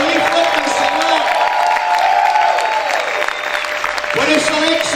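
A church congregation claps and cheers loudly as a strong voice calls out over the crowd's continuous applause.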